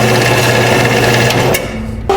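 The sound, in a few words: welding thin aluminum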